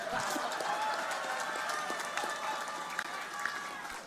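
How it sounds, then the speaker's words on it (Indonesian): Crowd at a mangrove botanical garden inauguration in Surabaya clapping loudly, a busy continuous patter of many hands at moderate distance with chatter and voices mixed in throughout. "Ayo yang belakang tuh tepuk tangan yang keras."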